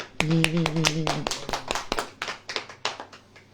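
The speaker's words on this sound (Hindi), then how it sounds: "ताली बजाइए" A crowd claps hands during a religious sermon: a brisk series of sharp, close claps in an uneven rhythm, with a voice briefly speaking at the start.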